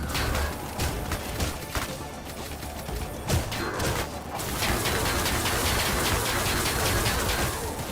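Crossbow alternate fire in Ion Fury unleashes a rapid volley of bow shots, a dense, continuous patter of sharp impacts and thuds that rises toward the end, loud and up close.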